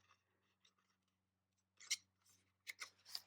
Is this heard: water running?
no